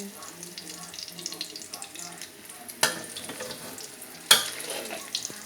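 Food frying in hot oil in a home kitchen, a steady soft sizzle with two sharp clattering knocks partway through, faint voices in the background.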